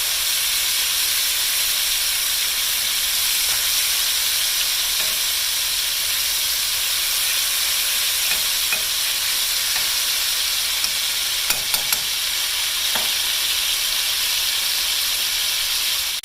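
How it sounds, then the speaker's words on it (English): Seasoned steak browns in a hot pan with a loud, constant sizzle, a broad steady hiss that carries the whole time, marked by a few faint clicks and stirring taps, with no voices. "We're going to mix this over and let it continue to brown on both sides"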